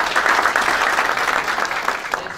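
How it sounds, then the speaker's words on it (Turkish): Steady applause from an indoor audience welcoming a team, a thick wash of clapping hands that holds level and then eases off slightly. "Sizden kuvvetli bir alkış bekliyorum ekibime."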